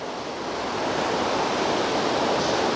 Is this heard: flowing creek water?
yes